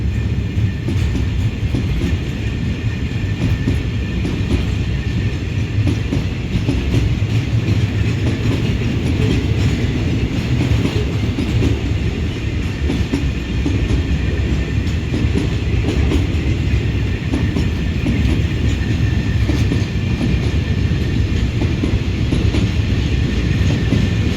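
CSR locomotive 5103 hauls train 532 at Ban Haet station, a loud, continuous rumble of rolling railcars with steady clickety-clack of wheels on track throughout, close by and uninterrupted.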